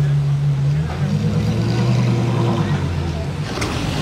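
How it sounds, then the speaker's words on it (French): Ferrari FF fitted with a Novitec exhaust, heard as a loud, steady low engine drone throughout, the note rising slightly near the start, with voices talking over it. "Regardez l'échappement."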